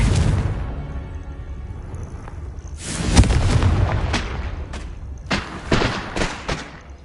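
Spell blasts from the Confringo fire spell in Hogwarts Legacy, heavy booming bursts with broad rumbling tails, one big blast midway followed by several sharper impacts in quick succession.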